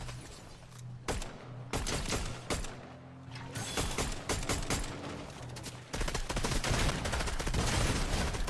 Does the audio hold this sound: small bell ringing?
no